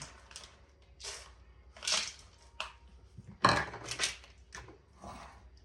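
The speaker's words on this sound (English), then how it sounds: "I'm going to just stir it around until the chocolate chips melt" Lily's white chocolate chips stirred in a pan to melt, giving soft, intermittent scraping and crunching strokes at an uneven pace, fairly quiet and close.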